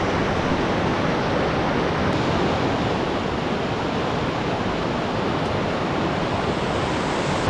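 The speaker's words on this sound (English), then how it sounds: "first creek crossing of the day here" A high creek rushes loudly and steadily at a trail race crossing on a 50-mile ultra in the San Juan mountains, in a particularly high-water year: a dense, close roar of whitewater with no voices.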